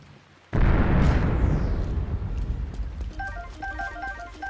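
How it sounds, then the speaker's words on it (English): A single loud explosion goes off in The Legend of Zelda: Breath of the Wild, with a sudden heavy blast, then a long rumbling decay, and light chiming game tones toward the end. "That explosion sounded a little bit too realistic."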